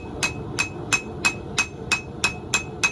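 A hammer forges a Damascus steel knife blade at a lower heat. It strikes nine times in an even, brisk rhythm, each blow a sharp ringing clang close by.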